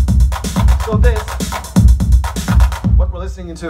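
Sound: Roland TR-909 drum machine kit

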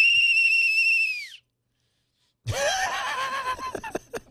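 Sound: whistle being blown

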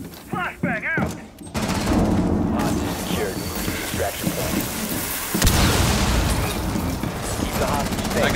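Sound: flashbang grenade explosion in Rainbow Six Siege video game

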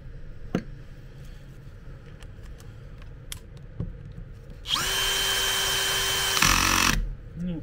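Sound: tightening screws on wheelchair gearbox

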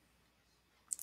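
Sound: computer mouse clicking

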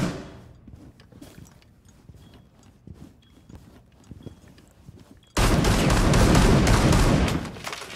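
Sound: gunfire from shooting through a wall in a video game

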